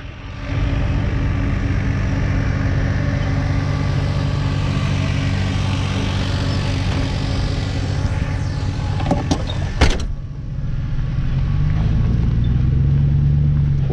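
An old Chevy truck engine drones steadily while towing a trailer, a continuous low rumble with a brief clatter of rattles near the end before the engine note resumes.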